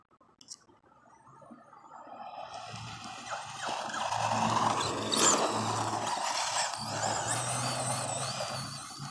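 A Team Associated SC10B two-wheel-drive short course RC truck on a 3S battery drives off-road, its electric motor rising from near silence into a sustained buzzing whine that holds fairly close with gritty scrabbling over dirt.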